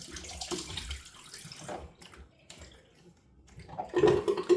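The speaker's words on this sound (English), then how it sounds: "I'm going to wet the face, cold water, rinse." Cold tap water running and splashing as a face is rinsed before shaving, close and fairly soft, with uneven splashes and a louder gush near the end.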